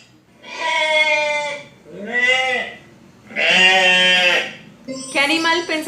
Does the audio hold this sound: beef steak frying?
no